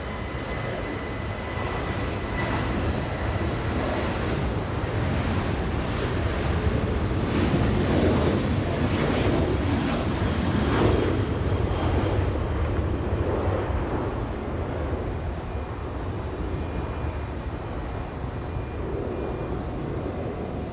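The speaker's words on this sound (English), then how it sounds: "This one flying to Albuquerque, Southwest 2924. A 737 getting a move on." Southwest Airlines Boeing 737 bound for Albuquerque roaring down the runway on takeoff at Los Angeles International Airport, a loud, steady broadband jet rumble and whine sustained throughout, swelling slightly mid-way before easing.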